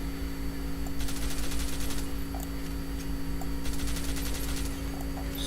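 Full-auto gun with an extended magazine firing in Fallout: New Vegas, two sustained bursts of rapid shots over a constant low mechanical hum.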